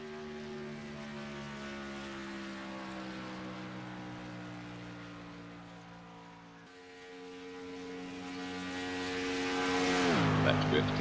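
A race car engine in a sim racing video game, a Daytona 500 qualifying run, holds a loud sustained tone at speed that steps up in pitch and then swoops down near the end as the car rushes past.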